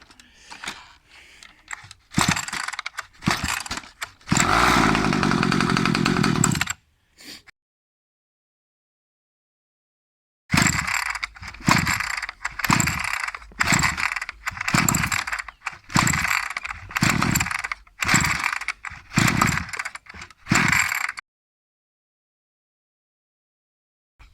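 A Rovan 45cc two-stroke engine in a 1/5 scale Baja 5B RC car is cranked with an electric easy-start, giving a long whirring burst, then a run of about a dozen short, rhythmic cranking pulses, loud and close with no speech.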